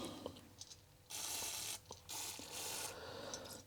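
Contacts on an Atari XE GS board are cleaned with electronic cleaner, with quiet close rubbing and two longer bursts of hissing scrubbing, separated by short pauses.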